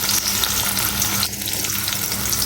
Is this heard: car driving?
no